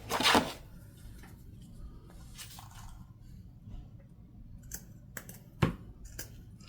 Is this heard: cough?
no